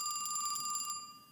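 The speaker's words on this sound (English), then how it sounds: "your spell fax starts ringing" A spell fax in a tabletop roleplaying game session rings like an old telephone bell, a rapid trilling ring that pulses evenly for about a second before fading out, with no voices over it.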